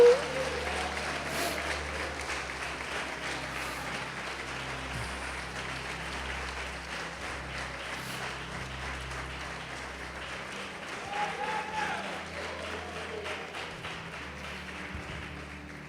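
A church congregation claps steadily and continuously during a sermon, a dense patter of applause with faint voices underneath.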